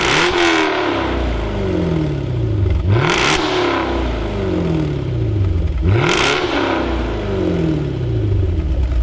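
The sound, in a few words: Jaguar F-Type P450 V8 with Paramount Performance exhaust revving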